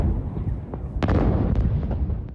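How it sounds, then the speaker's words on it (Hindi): Explosions at an industrial waste plant in Taiwan make a series of heavy, booming blasts with sharp cracks and rumbling, a few strong hits spaced over a couple of seconds amid continuous low roar, with no talking. "इंडस्ट्रियल साइट में भीषण धमाके होते रहे"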